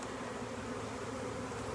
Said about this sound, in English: Got my handful of bees here, and we're going to give them a new home shortly